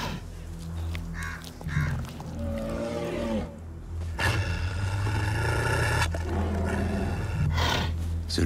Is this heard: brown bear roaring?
yes